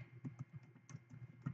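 Fingers type on a computer keyboard, a faint, close run of quick irregular key clicks with no voices.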